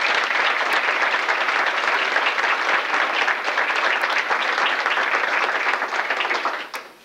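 A banquet room crowd at a volleyball banquet gives sustained applause, dense, even clapping from many hands at moderate distance, fading out at the close.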